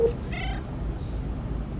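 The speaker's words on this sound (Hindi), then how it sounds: "बिल्ली है कितनी खूबसूरत है" A cat gives a single short meow, fairly close, over a low steady background hum.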